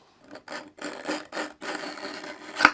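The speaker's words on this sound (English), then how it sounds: "You can hear that grinding." Rough rasping strokes of a knife pulled through the coarse slot of a Pocket Pal sharpener, about six grinding passes in steady rhythm, close up, ending with a sharp scrape.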